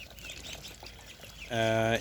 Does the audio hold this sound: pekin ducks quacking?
yes